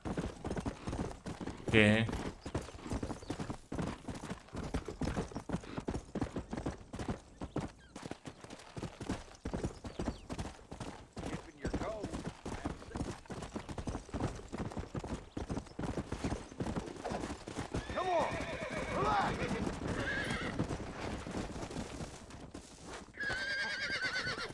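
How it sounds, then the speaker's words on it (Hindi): Wild horse in the Western video game Red Dead Redemption, with rapid hoofbeats clopping close and continuous, a loud neigh early on and more whinnying later, while someone talks over it. "Another wild horse."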